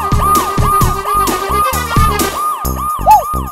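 A police car siren wails in repeated rising-and-falling sweeps as the vehicle arrives, loud and close, with a low engine rumble beneath and no talking.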